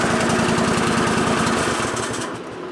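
A John Deere lawn tractor engine runs steadily with a loud, close, rhythmic mechanical chug, then slows and drops toward idle in the final moments, with no talking over it.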